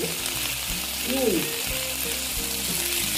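Ginger and garlic frying with onion for an egg and potato curry, a steady sizzle with scraping and rattling stirring noises layered over it and a few brief tonal squeaks from the pan.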